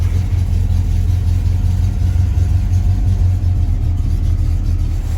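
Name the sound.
1971 Oldsmobile 442 455 V8 engine starting and running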